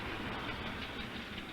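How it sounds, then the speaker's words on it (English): A locomotive-hauled train on the Deccan railway rumbles steadily past, a dense, continuous rolling roar of wheels and cars with no pauses. "They come from all over the world to see this train run."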